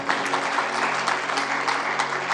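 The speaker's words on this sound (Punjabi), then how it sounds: "ਤਾਲੀ ਮਾਰੀਏ ਸੋਤੇ" An audience at a religious sermon applauds, a steady dense patter of many hands clapping together that continues evenly throughout.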